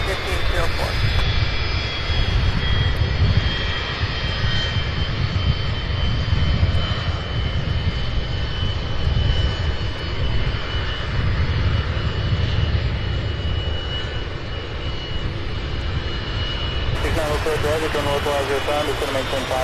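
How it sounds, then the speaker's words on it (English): A DC-9 jet taxiing on an airport taxiway gives a loud, steady engine roar and whine, close by and continuous throughout, with a brief shift in tone near the end. "One loud jet right here. Look at that. The DC-9 on Bravo, going to 17 right via Bravo"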